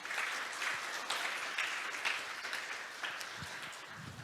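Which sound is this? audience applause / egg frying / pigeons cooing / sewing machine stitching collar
audience applause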